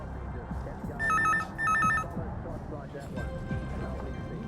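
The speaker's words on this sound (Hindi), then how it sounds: "बस एक काम करते हैं, इस नंबर पे फोन करके परेश के लिए पूछते हैं।" A telephone rings twice in short electronic trills over a murmur of background noise, then a faint tone lingers.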